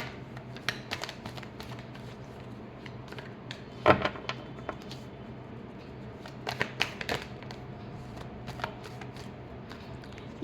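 Tarot cards being shuffled by hand, a quiet run of crisp riffling flicks and taps that come in uneven bursts, close up with no talking.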